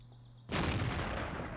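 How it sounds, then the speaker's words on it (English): A single tank gun fires in World of Tanks during a competitive match, one sudden loud boom that rolls on as a broad rumbling tail after a moment of quiet engine hum. "One random shot goes out there for International 64"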